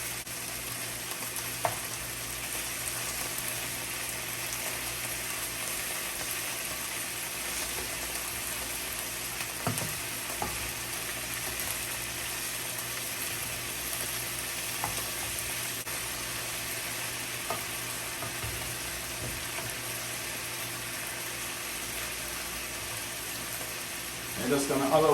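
Beef steak pieces sear and brown in a hot pan for beef stroganoff, giving a steady, loud, even sizzle for the whole stretch with a few faint clinks and no talking.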